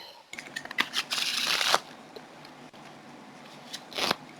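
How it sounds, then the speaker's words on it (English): Close-up riffling and snapping of a deck of cards being shuffled in quick bursts, with quieter handling between. "shuffle the deck as much as you can."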